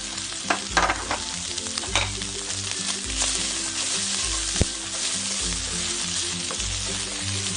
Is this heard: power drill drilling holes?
no